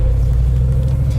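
A 500 HP Hemi-swapped Jeep JK driving on a test run, steady low engine rumble with a faint higher hum, loud and close from inside the vehicle, no voices.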